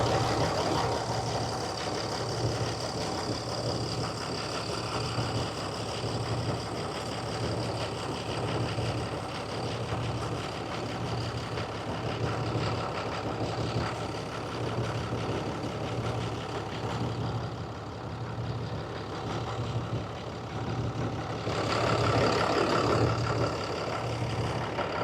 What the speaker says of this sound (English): Started the truck up, turned the AC on. The compressor has kicked on.